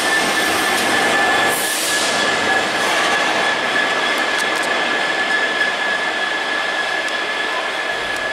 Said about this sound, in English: Now we have a Class 66 going through the station without anything being pulled by it.